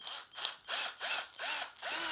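Power drill boring into soft wood for a homemade parrot toy, in four loud bursts of whining motor separated by short pauses.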